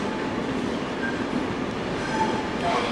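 A Thalys high-speed train pulling into a platform at Brussels-Midi station, heard as a steady, loud rolling rumble with faint wheel squeals above it.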